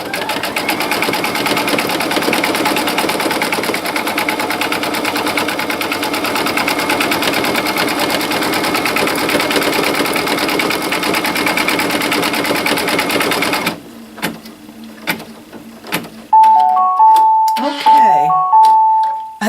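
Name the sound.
embroidery sewing machine stitching a baby quilt border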